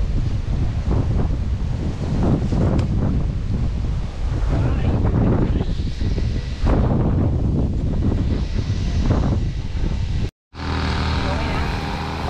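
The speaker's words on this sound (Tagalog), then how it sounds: "Sarap ang hangin." Heavy wind roars and buffets against the microphone on a winding mountain road ride to Tatlong Krus in Paete, Laguna. It is loud and continuous throughout, with voices faintly underneath and one brief dropout near the end.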